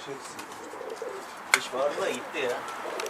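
A bird, dove-like, gives soft repeated coos over a steady background hiss, with a brief sharp knock partway through.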